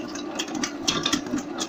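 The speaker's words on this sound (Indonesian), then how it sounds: "Kecepatan alat mixer kita tambahkan ke posisi gigi 2 ya." An electric mixer kneads doughnut dough at a low speed setting, giving a steady, close motor whir with a faint rhythmic churn and no voices.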